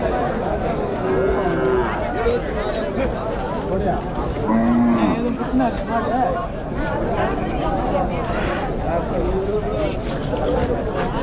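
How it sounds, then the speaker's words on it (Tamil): Cattle low several times at a busy cattle market in Vaniyambadi, the moos rising over constant crowd chatter and people talking nearby. "பெரிய சைஸ் மாடுங்க இப்போதான் வந்துடுது உள்ளே"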